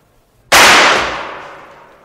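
A single sharp gunshot effect in a French radio drama cracks loudly and alone, followed by a long reverberant decay that fades over about a second and a half.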